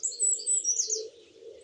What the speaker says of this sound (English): there's a lot of pigeons. It's so noisy.